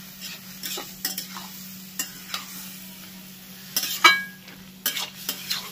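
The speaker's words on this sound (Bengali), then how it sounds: "আর কচু দেওয়ার সাথে সাথে যে মশলাটা বেটেছিলাম ওইটা দিয়ে দেবো। এবার একসাথে কষাবো।" Taro being stir-fried in a pan with ground panch phoron spice paste, a soft sizzle under repeated scraping strokes of a spatula and occasional clinks of metal against the pot, close and moderately loud.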